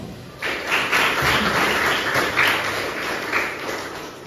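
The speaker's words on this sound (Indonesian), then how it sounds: "Tepuk tangan." Applause from a school audience at a student council candidate selection, a steady wash of many hands clapping together, fairly loud and continuous with no talk over it.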